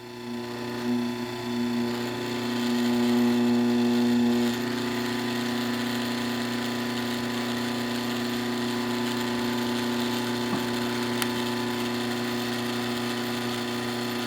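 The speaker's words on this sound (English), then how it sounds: "we got the motor back together temporarily, put it on the electrics and fired it up, and it ran" Rewound Index electric motor running on the bench after reassembly, a steady loud hum with strong tonal whine that shifts pitch slightly after a few seconds, then continues evenly with a faint click later.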